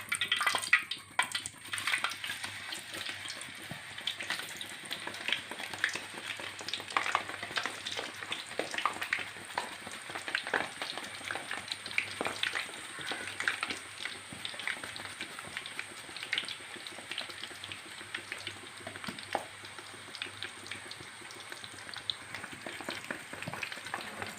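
Sliced raw banana fries in hot oil for Kerala banana chips, a soft, steady crackling sizzle dotted with tiny pops, continuing alone without speech.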